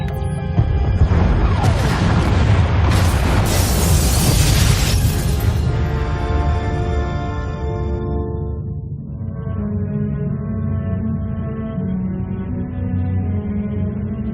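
Explosions tear through pod bays in Star Wars: The Old Republic, a loud sustained crash with shattering debris early on, then a long low rumbling roar that continues to the end.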